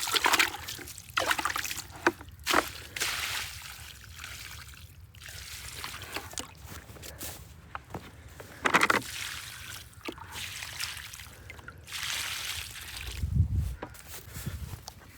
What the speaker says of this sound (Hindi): लेमन के दोनों पौधों को लग गया पानी